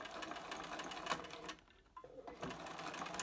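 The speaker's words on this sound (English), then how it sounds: "So I'm just going to sew along here." A domestic sewing machine stitches along the edge of a fabric face mask, running in a steady fast whirr that pauses briefly midway and then resumes, close and alone.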